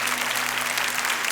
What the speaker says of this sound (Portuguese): E eu queria que vocês aplaudissem o que eles estão fazendo. Pode aplaudir com mais força.